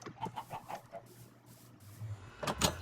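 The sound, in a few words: chickens clucking in a video game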